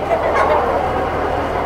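Lohmann parent stock hens and roosters in a poultry house, a steady murmur of clucking and low gobbling calls with no clear individual calls, close and continuous.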